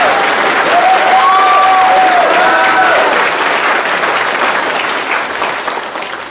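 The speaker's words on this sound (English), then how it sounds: "you can applaud" A banquet audience breaks into loud, sustained applause, a thick crowd of clapping hands that swells early and slowly thins near the end, with a faint whistle or cheer riding over it.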